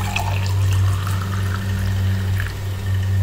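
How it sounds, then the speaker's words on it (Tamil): A strained homemade refreshing drink is poured into a glass, a steady liquid splash and trickle running for a few seconds over a low constant hum, without any talking. "பாருங்க, இப்போ இந்த கிளாஸில் ஊற்றிக்கலாம்."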